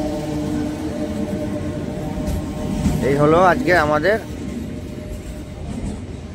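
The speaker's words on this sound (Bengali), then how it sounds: "অবশেষে আমাদের গাড়ি 5 নম্বর প্ল্যাটফর্মে ঢুকে গেল" A MEMU train pulls into platform 5 at Azimganj Junction with its headlight on, rumbling steadily under a brief wavering horn-like tone while someone talks nearby.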